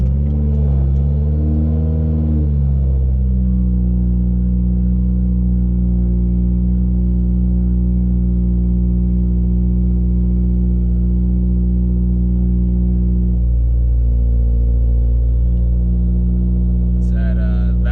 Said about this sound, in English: this is a cold start from the inside of the car